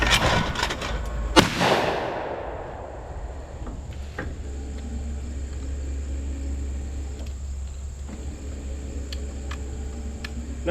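A shotgun fires at a clay target during trap shooting, one loud sharp blast near the start followed by a long decaying echo, then quiet outdoor ambience with faint ticks.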